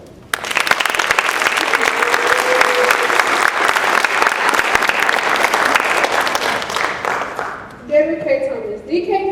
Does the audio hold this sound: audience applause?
yes